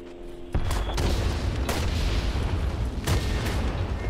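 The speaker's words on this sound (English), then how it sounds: "Is that friendly artillery?" Artillery fire in Holdfast: Nations At War, with a sudden heavy boom followed by rumbling blasts and a couple of sharper cracks, loud and continuous.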